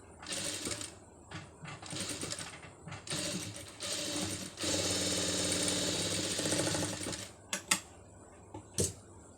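A sewing machine stitches saree cloth for a sleeve design in several bursts of steady mechanical whirring, separated by short pauses and a few sharp clicks near the end.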